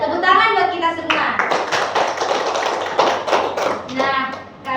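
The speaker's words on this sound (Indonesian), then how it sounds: "Tepuk tangan buat kita semua." Children in a classroom clap together in a burst of quick taps, with a teacher's voice talking before and after.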